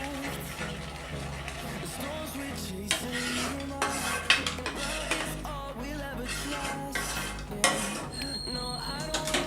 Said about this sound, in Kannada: ಹಾಗೆ ಅರ್ಧ ಟೇಬಲ್ ಸ್ಪೂನಷ್ಟು ಸಬ್ಜಿ ಮಸಾಲ ಇದ್ದೀನಿ ಇವಾಗ ಇದನ್ನು ಚೆನ್ನಾಗಿ ಮಿಕ್ಸ್ ಮಾಡ್ಕೊಳ್ಳಿ